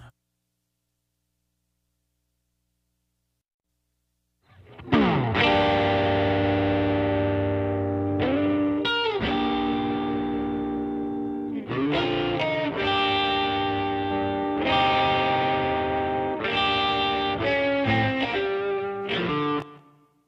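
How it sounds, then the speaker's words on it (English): After a few seconds of silence, a distorted electric guitar with a Haas-effect stereo delay plays sustained chords and short riffs with a wide, spacious sound, no voices. "That is how you would use the Haas effect in practical purposes inside of your mixes."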